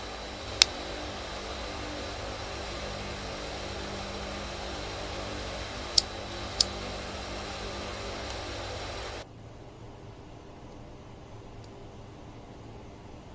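Hercules transport aircraft engines in a flight simulator, a steady droning roar with a few sharp clicks that drops abruptly to a quieter, muffled hum near the end.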